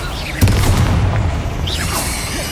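Incendio fire spell cast in the video game Hogwarts Legacy, a loud whooshing burst with a booming onset followed by a sustained fiery rush and fading swirl, heard alone.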